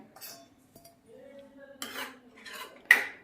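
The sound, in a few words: stirring homemade tomato sauce in a pot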